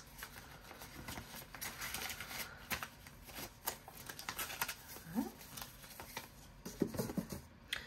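Paper cash bills rustle and shuffle as they are sorted and stuffed into savings-challenge envelopes, a steady close-up crinkling with brief flicks and taps throughout, without talk.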